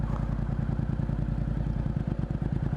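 A manual motorcycle's engine runs close by with a low, steady throbbing rumble as its RPM begins to sag slightly, with no talk over it.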